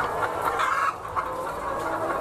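Chickens at a poultry farm in Kazakhstan's Kyzylorda region cluck and chatter in a soft, continuous flock murmur, moderately distant, with no speech.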